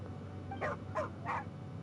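Three short barks from a dog in the Genshin Impact video game, evenly spaced over a steady low background hum, moderately loud and close, with no talking.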